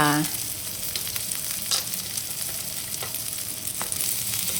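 Shallots, garlic and pepper stir-frying in hot oil, giving a steady loud sizzle with faint scrapes of stirring throughout, and no one speaking.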